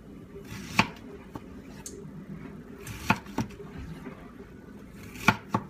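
A knife chops onion on a cutting board in a home kitchen, giving a few sharp, separate knocks spread over a quiet background, with no talking.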